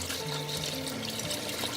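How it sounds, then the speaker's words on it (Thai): Old soaking water being poured out of a pot of soaked bananas in a kitchen, a steady splashing stream that runs continuously at moderate volume. "เราก็จะเทน้ำเก่าออก แล้วเราก็ใส่น้ำใหม่เนาะ"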